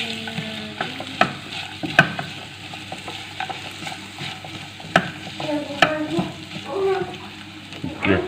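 Chicken for a dry chili dish fries in a pan while it is stirred, with a steady sizzle and frequent clinks and scrapes of the utensil against the pan, close and unaccompanied by speech.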